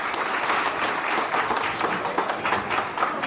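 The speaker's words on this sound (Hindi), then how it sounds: "तालियों से इनका अभिवादन करें" An audience gathered outdoors at a village government upper primary school's annual function claps together, a sustained, fairly loud roll of applause with slight surges and no talking over it.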